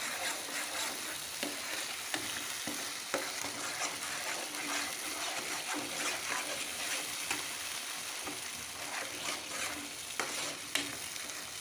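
A spoon scrapes and stirs a potato curry with chilli powder and lentils in a pan as the oil sizzles. The scraping strokes are steady and close over a constant frying hiss, with no voices.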